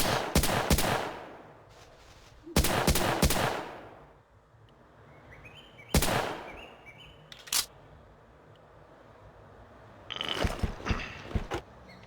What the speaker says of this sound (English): And I realized I was firing a loud weapon as well.